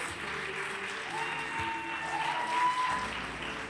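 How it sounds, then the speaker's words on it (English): An audience at a Talent Search Cymru semi-final applauds steadily throughout, a close, full wash of clapping with faint tonal sounds and a brief voice beneath it. "Round of applause, guys."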